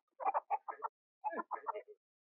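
A rooster clucking in a short series of close, distinct bursts, two quick groups with a brief pause between them, heard alone with no talk.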